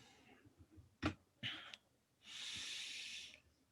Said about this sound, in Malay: Ambil nafas lagi sekali terus baca.